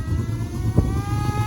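Another driver's nitro RC car engine runs nearby with a constant buzzing drone, carrying a brief louder surge partway through.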